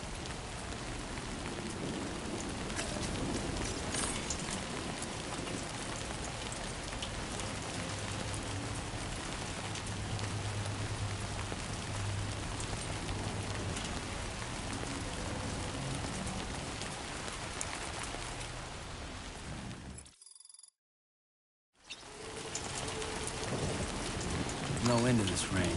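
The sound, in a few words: rain falling in a video game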